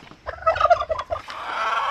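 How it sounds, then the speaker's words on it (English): A turkey in a backyard chicken coop gobbles loudly and close up in a rapid rattling burst, followed by a steadier drawn-out call that trails off. "Turkey looks a little angry."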